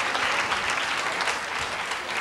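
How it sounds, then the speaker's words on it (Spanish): A studio audience at a Spanish television show claps loudly and continuously, a dense, even roar of applause that holds without pause. "¡Aplaudan!"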